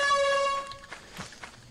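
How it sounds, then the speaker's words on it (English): Air horn blast in the video game Lethal Company, a loud harmonic tone sounding for roughly half a second before fading into scattered footsteps and small noises. "Hey, Bada, does this sound like an air horn to you?"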